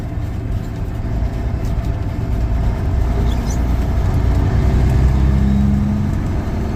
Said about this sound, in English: As you can tell, we're in the truck.